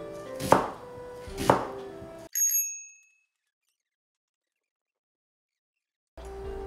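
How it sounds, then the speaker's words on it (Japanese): A knife finely chopping an onion on a board, two firm close thuds about a second apart, then a brief bright chime and a long silence. "では今から早速玉ねぎのみじん切りの方をやっていきたいと思います"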